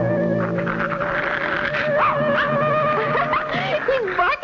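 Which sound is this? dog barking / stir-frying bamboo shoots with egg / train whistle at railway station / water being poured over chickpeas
dog barking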